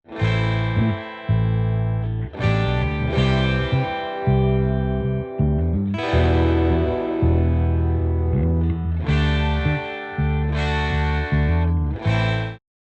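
A distorted electric guitar riff plays over a deep bass guitar line, loud and full, with brief gaps between phrases.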